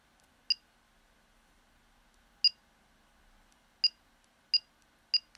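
A 70mai Dash Cam Pro gives five short, sharp electronic beeps, spaced irregularly over near silence, each crisp and close with no voice over them.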